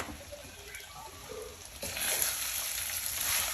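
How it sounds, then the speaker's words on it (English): Steady, close sizzling of fried rice frying in a wok, a crackling hiss that grows louder and busier halfway through, with no voices. "And you hear that frying?"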